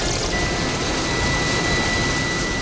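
A rescue helicopter at a snowbound mountain shelter on Seoraksan in winter produces a loud, unbroken roar of engine and rotor noise, constant throughout with no voices.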